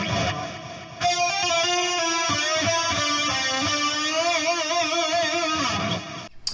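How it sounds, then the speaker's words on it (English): Distorted electric guitar plays slow hammer-on phrases from a song's solo, with sustained, bending notes ringing loud and continuous through the run before cutting off near the end. "We got some hammer-on action, I'll play slow for you."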